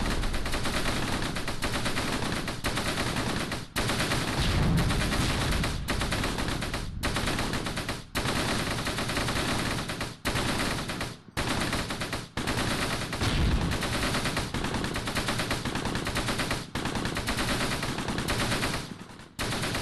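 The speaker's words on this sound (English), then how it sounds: "Ivan, start shooting" Gunfire rattles almost continuously in the World War II video game Close Combat Gateway to Caen, with dense machine-gun bursts and rifle shots blending into a loud, unbroken battle din with only brief gaps.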